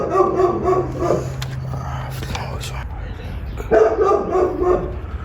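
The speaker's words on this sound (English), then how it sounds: "This dog is kind of annoying" Dog barking outdoors, heard as a series of yips and barks of moderate loudness over steady background noise, with a person talking softly nearby.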